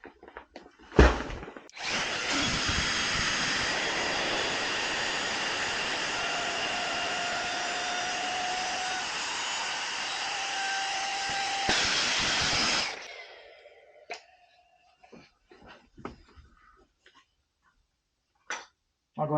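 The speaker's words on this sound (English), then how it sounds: "Like it basically sucked all the air out of it." A Flextail Max Pump 3 portable air pump drones loudly and steadily for about eleven seconds as it deflates a sleeping pad, then cuts off, followed by faint handling rustles and clicks.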